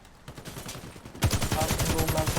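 Rapid automatic fire from a 180-round high-capacity gun in Warface, a bank-heist mission, starts as quieter shots, then jumps into a loud, dense, steady stream of rounds.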